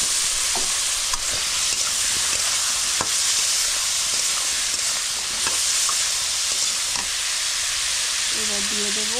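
Spice mix stirred into frying food in a pan for a papaya and potato vegetarian curry with chana dal fritters, a steady close sizzle with scraping stir strokes throughout, no talking.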